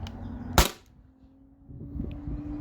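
A single sharp, loud crack from a Beeman BP50 CO2 air pistol firing an 8.4 gram ball, heard alone with a low steady hum behind it and faint background rumble afterward.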